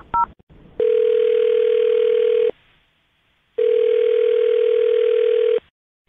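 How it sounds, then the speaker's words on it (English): A telephone ringback tone sounds while a call is being placed, opening with a brief burst of dialing tones and followed by two long, loud, steady rings separated by a pause. "I'm dialing her phone number right now"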